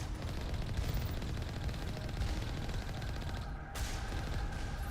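Rapid turret gunfire from the Mass Effect video game, a dense continuous volley of shots that runs through the whole passage at steady loudness with a brief dip near the end, with no talking.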